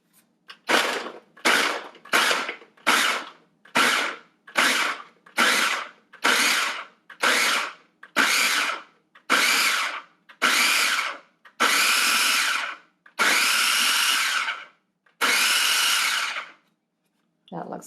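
KitchenAid food chopper chopping seven peeled garlic cloves, a run of about fourteen short motor pulses that grow slightly longer toward the end, each a loud whirring burst separated by brief silences.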